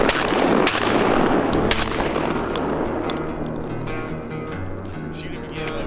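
Shotgun blasts ring out at ducks on a Mississippi Delta hunt, two or three sharp loud bangs close together at the start, then an echoing rumble as hunters talk.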